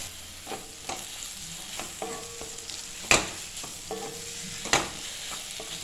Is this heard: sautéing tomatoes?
yes